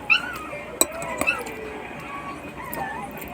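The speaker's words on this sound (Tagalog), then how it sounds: "Ingay ang aking tuta." A puppy makes short whimpers and yips indoors, with a sharp bark-like burst partway through, heard faintly beneath a quiet room background.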